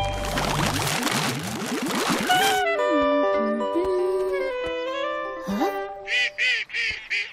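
Several ducks quack loudly and repeatedly, overlapping honks at first, then a run of separate nasal quacks near the end.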